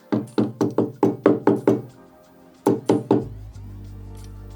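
Sharp knocks tap loose fibers out of a cut carbon handlebar held in a vise, a quick run of about eight hollow raps, a pause, then three more followed by a low steady hum.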